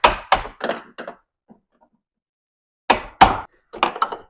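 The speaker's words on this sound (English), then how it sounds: "using a long extension and a hammer, I'm going to hammer this pin out" A hammer drives a door hinge pin out through a long extension on a shop truck door, several sharp metallic knocks in two close bursts separated by a quiet pause, loud and near.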